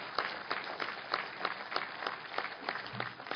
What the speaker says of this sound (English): You can give me a clap.